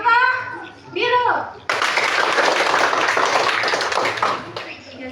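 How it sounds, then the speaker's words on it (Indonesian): Classroom applause for a student group bursts out abruptly after a teacher's speech, dense clapping from many hands that holds steady for several seconds before tapering, with children's voices mixed in. "tepuk tangan untuk kelompok biru"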